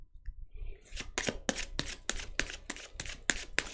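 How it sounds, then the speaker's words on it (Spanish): Tarot cards being shuffled by hand, a run of about nine crisp riffling snaps in a fairly regular rhythm after a quiet start, close and clear with no talk. "vamos a barajar las cartas para este día de hoy"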